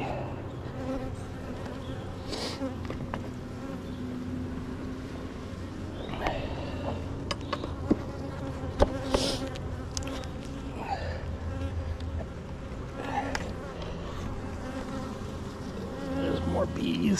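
Honey bees buzzing around an open hive during a summer inspection, a dense continuous drone with individual bees flying close past, and faint handling noises.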